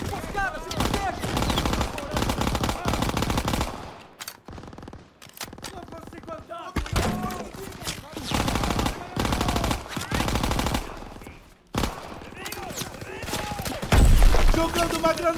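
Call of Duty WWII gameplay has loud, sustained machine gun bursts with rapid rattling fire, brief pauses between volleys and a heavy impact near the end, with a voice talking over it.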